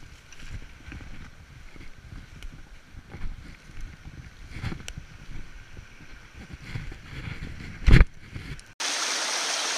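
A forest stream flows steadily in a rushing wash, with a sudden louder knock near the end and a harsher gust-like noise taking over for the final second.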